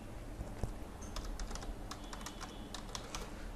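Rapid typing on a computer keyboard while entering a query in Power BI's Q&A feature: a run of quick, irregular key clicks, close and fairly quiet, over a steady low background hum.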